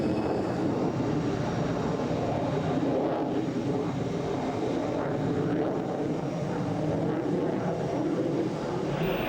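Dassault Mirage / Cheetah jet aircraft flying, a steady, loud broadband roar that holds constant throughout with no voices.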